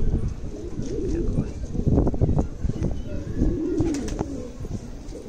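Soft pigeon cooing, a few low throaty coos close by over a murmur of background noise.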